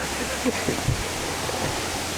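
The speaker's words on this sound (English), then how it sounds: "The water seems to be flowing in the very high speed." Fast-flowing river water in Dongkalangso, Karbi Anglong, rushes as a steady, dense roar close to the microphone, broadband and unbroken throughout.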